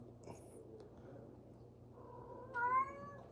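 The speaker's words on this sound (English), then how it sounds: "Calico Kitty, why don't you go out there and cry?" A calico cat gives a single drawn-out meow near the end, fairly close and clear over a low steady background hum.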